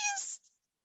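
A cat gives a single short meow, bright and close, lasting under half a second and then cutting to silence.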